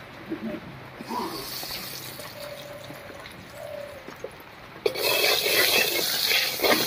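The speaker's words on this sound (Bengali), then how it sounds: "এবারে তেলের মধ্যে দেবো একটুখানি লবণ আর একটুখানি হলুদ" Hot oil in a wok sizzles softly after salt and turmeric drop in. A sudden louder hiss and crackle bursts up near the end and keeps going.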